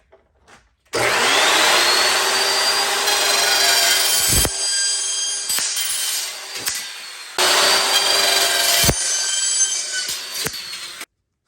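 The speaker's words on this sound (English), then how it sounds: "before you go cut this at your chop saw" Chop saw slicing a piece of framing for a BBQ island fridge opening: a loud, close, steady cutting whine across two long passes separated by a short pause, alone without talk.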